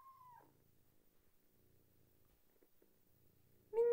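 Minecraft cats gathering around the player, giving a faint low purring murmur that opens and closes with short, clear, tonal meow-like calls, the last one louder and close.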